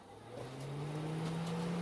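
White Hyundai Getz car engine starting: a faint, short crank quickly swelling into a steady low engine hum that holds on at moderate level.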